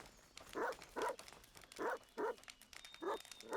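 A dog in the survival video game ASKA barks in repeated short bursts, about six evenly spaced woofs at moderate distance, with faint ambient game sound between them.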